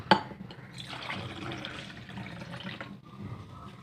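Water is poured into a glass for kalonji water, a steady close splashing trickle that starts with a small clink and runs continuously for several seconds, faint and alone.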